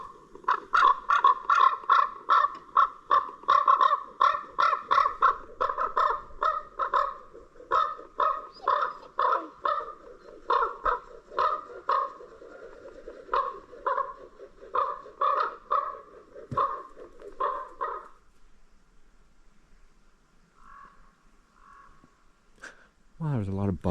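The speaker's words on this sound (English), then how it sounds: "I just want to capture this because I'm editing and calling in the birds." Crows outdoors at a campsite give a long run of rhythmic, raspy caws, loud and repeated for most of the stretch, then thinning to a few scattered calls at the end.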